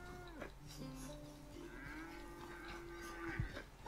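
A cow lows in Red Dead Redemption 2, a single drawn-out moo carried under ambient game sounds and farm noise, close and moderately loud, with no talking.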